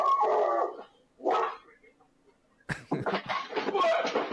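A distressed dog whimpers and yelps in short bursts, then breaks into a run of louder barks and whines near the microphone, with brief pauses between outbursts.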